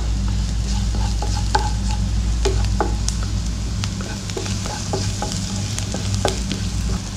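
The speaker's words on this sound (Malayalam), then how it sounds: "നന്നായി വഴറ്റി കൊടുക്കുക" Onions sautéing in a little oil for an egg potato kabab, with a constant close sizzle and the spoon clinking and scraping against the pan at irregular intervals, without any speech.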